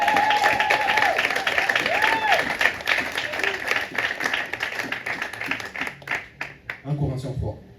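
Church congregation at a Sunday service clapping and cheering loudly and continuously, with shouts and voices mixed in, the applause thinning and breaking into scattered claps near the end.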